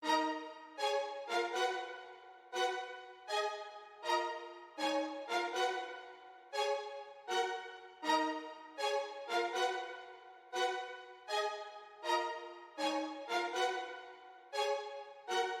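Orchestral strings melody programmed in FL Studio, short detached notes in a bouncy repeating rhythm, clean and alone with a gentle reverb tail.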